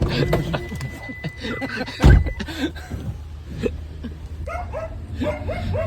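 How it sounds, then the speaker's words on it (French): A dog barks in short bursts and gives thin, rising whimpers and yips, fairly close, mixed with people talking and a loud thump partway through. "Pas beau le chien."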